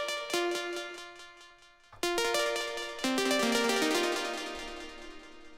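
Bright future bass synth plucks in FL Studio ring out in sequence, each note echoing through ping-pong delay and trailing into a wash of reverb that builds as chords stack up.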